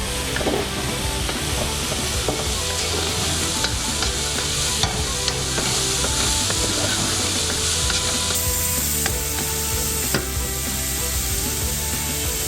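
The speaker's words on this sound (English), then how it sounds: "And in goes my onions and my leeks." Onions and leeks sizzle loudly in a stew pan over slightly lowered heat while a utensil stirs and scrapes the bottom continuously. Close, dense frying texture with rhythmic rubbing strokes and no talking.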